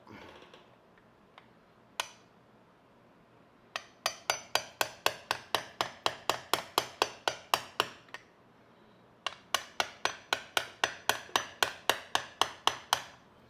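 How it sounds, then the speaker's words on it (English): Sharp tool punching holes in the oil filter during an oil change on a 2023-or-newer Harley-Davidson: a few scattered taps, then two long runs of rapid, evenly spaced metallic knocks, close and crisp, with no talk. "Now we're going to poke a couple of holes in it and kind of tilt it down to help the oil drain out."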